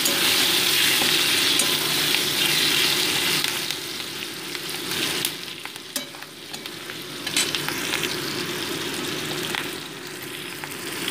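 Green chillies and hilsa fish heads fry in hot oil, a steady loud sizzle with occasional stirring scrapes throughout, no voices.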